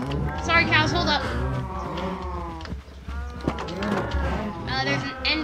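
Cows mooing in the Minecraft video game, several drawn-out lowing calls repeating across the stretch with game sounds and music beneath, fairly loud and continuous.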